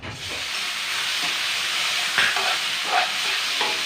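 Chunks of shark meat and tomato frying in a hot pan give a steady, close sizzle and hiss, with a few brighter pops and spits flaring up partway through.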